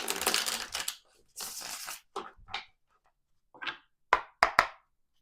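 Tarot cards are shuffled in short, close, papery bursts of riffling and slapping, broken by pauses and ending in a few sharp taps as the deck is squared.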